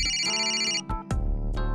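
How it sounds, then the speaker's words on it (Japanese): A phone's electronic ringtone announcing an incoming call plays as a melodic, repeating pattern of bright tones, sounding clearly and alone with no talking. "麦野から電話ですね。"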